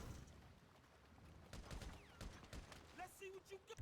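Bursts of rapid machine gun fire crackle in short volleys in GTA V, with a few sharp whistling tones near the end, fairly faint overall and without any talking.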